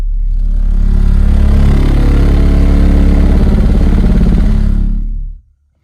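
CT Sounds Tropo 10-inch subwoofers driven with a 35 Hz test tone, a very loud, steady deep droning hum with buzzing rattle that holds for about five seconds, then cuts off abruptly.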